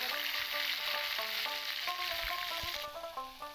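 Ginger, garlic, onion and green chili paste fry in oil with a steady sizzle, heard under faint tonal background music.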